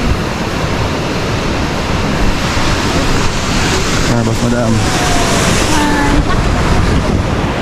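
Sea waves wash onto the shore at Sabang, a steady broad roar of surf with wind buffeting the microphone throughout, while people talk briefly over it.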